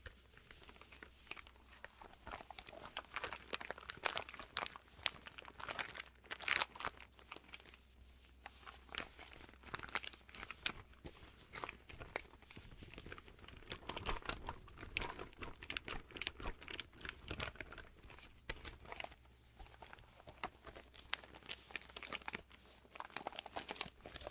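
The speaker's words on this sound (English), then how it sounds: "plastic, almost like it's a tarp material" A tarp-like plastic sheet being handled and crinkled up close, giving dense, continuous soft crackling and rustling with irregular sharper crinkles throughout, fairly quiet and with no talking.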